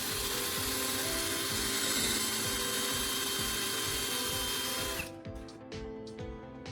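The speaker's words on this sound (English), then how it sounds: "Now, I'm drilling those pilot holes." A power drill drilling pilot holes in wood whines steadily and loudly for about five seconds, then cuts off, leaving quieter intermittent mechanical whirring.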